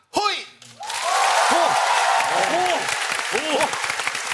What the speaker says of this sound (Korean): 박수 쳐라.